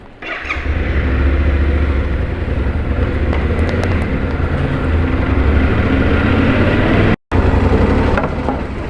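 A Yamaha Tenere 700 motorcycle starts and rides off, its engine a loud continuous drone that holds steady throughout with a very brief cut near the end, no talk over it.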